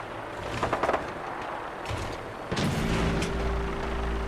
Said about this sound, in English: all these explosions and stuff